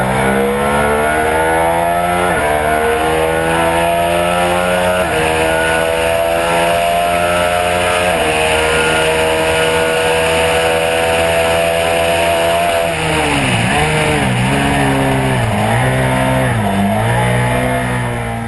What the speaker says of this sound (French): Avec très peu d'inertie, le twin fonce littéralement vers la zone rouge.